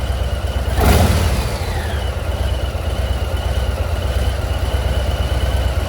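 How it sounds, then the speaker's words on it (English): A 2022 Harley-Davidson FXLRST motorcycle with a 117-inch engine and slip-on exhausts drones steadily throughout, with a brief louder surge near the start as something passes close by. "the engine sounds really overwhelm the exhaust note"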